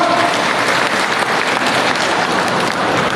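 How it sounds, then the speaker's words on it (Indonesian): A large seated crowd at a cooperative recovery information session in a hall gives sustained applause, loud and continuous, with no break or voices standing out. "Tepuk tangan untuk kita semua."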